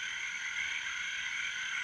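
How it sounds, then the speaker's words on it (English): Costa Rican poison dart tree frogs calling in a tropical setting, a steady high buzzing trill that sounds continuous and even, moderately distant and quiet, with no voices over it. "These Costa Rican tree frogs exude a poison from their skin."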